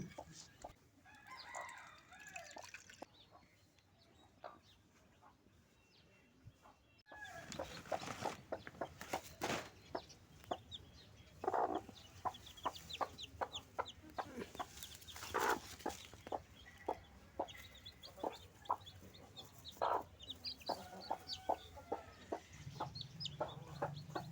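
Hens clucking repeatedly with faint high peeping of chicks, close and continuous, growing busier and louder after a quieter opening stretch.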